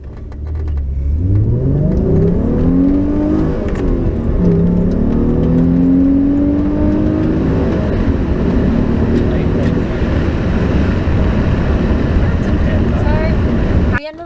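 A Mitsubishi Magna with a 3.8 engine accelerating hard from 0 to 100, engine note rising through successive gears with brief shift dips, loud and close from inside the car, with speech over it.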